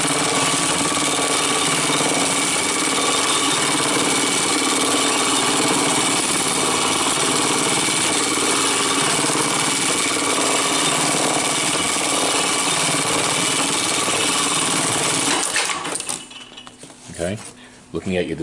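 A Brother BAS326H industrial pattern sewing machine runs continuously with a dense, fast mechanical whir and rattle, then stops, leaving a few scattered clicks at the end.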